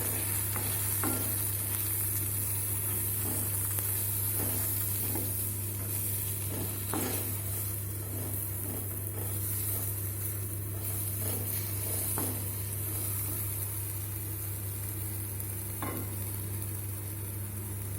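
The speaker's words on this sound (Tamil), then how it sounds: "சேர்த்து நல்லா கலரி வைக்கணும்." Coriander powder and coconut stirred into a frying sundakkai kuzhambu, a constant low sizzle under a steady hum, with soft, irregular scraping taps of a spoon in the pot throughout.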